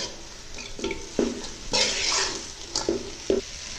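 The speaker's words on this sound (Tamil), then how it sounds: "இப்போ வந்து இந்த நூடுல்ஸை போட்டோன்னா மெதுவாக கிண்டுங்க" Egg noodles are stirred gently in a frying pan with a utensil, giving several soft scraping strokes over a low sizzle, near and fairly clear with no voices.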